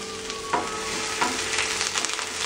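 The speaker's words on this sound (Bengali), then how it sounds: "সেম তেল, তাতে দিয়ে দিচ্ছি আমি একটা বড় সাইজের পেঁয়াজের কুচো। পেঁয়াজটাকে আমি হালকা ফ্রাই করব।" A large chopped onion lightly frying in oil gives a steady, close, crackling sizzle with soft stirring scrapes and no talking.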